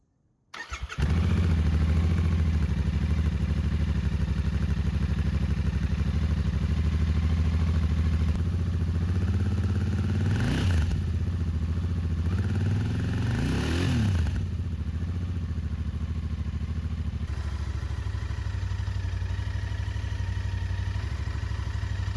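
A Royal Enfield Interceptor 650 parallel-twin motorcycle starts up and settles into a steady, loud idle with a deep throbbing rumble close by, holding for about twenty seconds with slight revs partway through and no voices.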